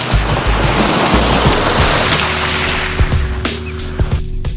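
A 2014 Toyota Highlander churns through mud in first gear off-road in Colorado, giving a loud continuous rushing roar with broadband splashing and slosh, steady throughout with a few thumps near the end.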